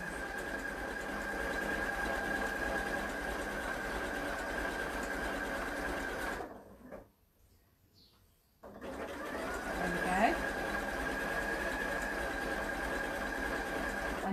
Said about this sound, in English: watching a sewing machine sewing